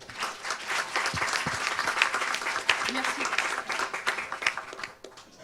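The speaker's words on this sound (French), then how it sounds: "donc on peut l'applaudir" A conference audience applauds warmly for several seconds, steady clapping from many hands, with a brief spoken word heard through it.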